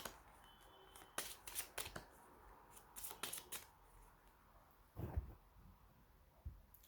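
A tarot deck is cut and a single card drawn, giving a few quiet, papery riffles and slaps spread through a near-silent room, with one firmer tap toward the end.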